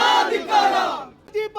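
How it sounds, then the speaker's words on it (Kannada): At an indoor stadium, a crowd chants and cheers for Parameshwar in loud, roaring bursts of massed voices, one long surge fading out before a short, sharper shouted chant returns at the end. "ಪರಮೇಶ್ವರ್ಗೆ ಜೈಕಾರ."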